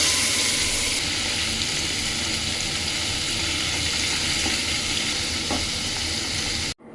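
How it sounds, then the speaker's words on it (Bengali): Paneer pieces fry in hot oil in a wok, a loud, dense, continuous sizzle with faint stirring knocks, heard alone before it cuts off abruptly at the end. "এবার আমরা পনিরগুলোকে ভেজে নেব।"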